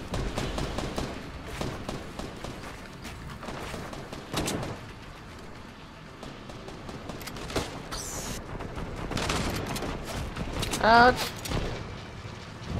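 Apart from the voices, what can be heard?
gunfire hitting the player in Fortnite, from a video game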